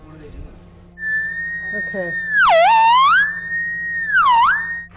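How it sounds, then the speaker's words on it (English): A theremin is played up close, its gliding electronic tone holding a steady pitch, then swooping down and back up twice with wavering, voice-like bends; a faint bit of speech sounds at the start. "we're testing out the theremin real quick"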